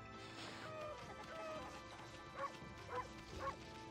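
A run of short dog barks from the video game Okami, three yips spaced evenly near the end over steady game music and ambience, moderately loud.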